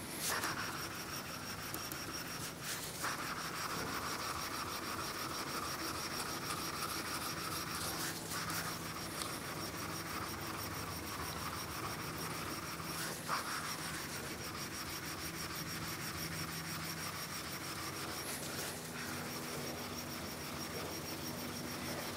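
Flat lapping plates rubbed against each other by hand in 45-degree strokes, giving a steady, continuous abrasive scraping hiss close up, with a few brief louder strokes and no talk.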